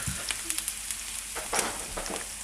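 Onions frying on a tawa for beef until lightly browned, a quiet steady sizzle broken by several short scraping stirs close by.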